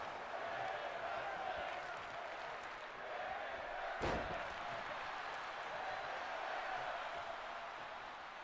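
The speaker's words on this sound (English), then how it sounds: "Megan with a huge power bomb" A wrestler's power bomb slam onto the mat at a women's hardcore championship tournament, one sharp thud midway through over a steady crowd roar, with commentary running throughout.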